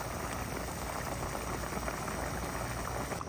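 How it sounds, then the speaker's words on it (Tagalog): A pot of mung beans cooking with chicken boils vigorously, giving a dense, constant bubbling and churning with no pauses and no voices. "At yan na po ay kumukulo na po."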